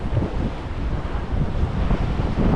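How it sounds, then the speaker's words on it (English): Strong wind buffets the microphone at a seaside marina in Spain, a steady low roar with gusty rumbles and faint water wash beneath, loud and close throughout with no talk. "I don't want to be sitting in the direct wind."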